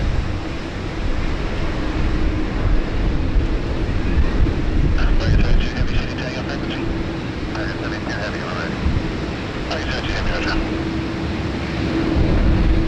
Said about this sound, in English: It's just very windy, that's all.